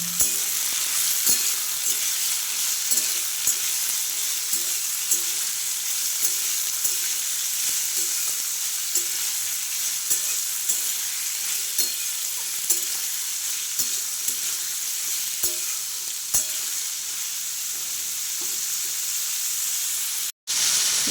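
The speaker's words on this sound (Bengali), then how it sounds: "এরপর সবজিগুলো আমি ভালোভাবে নাড়িয়ে নেব।" Carrots and beans stir-fried in a pan sizzle steadily for about twenty seconds, with regular soft scrapes and taps of a spoon, followed by a brief dropout near the end.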